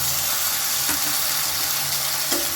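Chopped tomatoes hit a pan of frying onions and start to sizzle, giving a steady loud hiss close by with a couple of brief scraping clinks from stirring.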